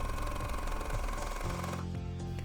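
Sewing machine stitching a sleeve facing down at the pleats and underarm seam of a dress, a steady close mechanical whir running continuously, shifting in pitch partway through.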